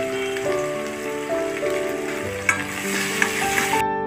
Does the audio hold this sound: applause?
no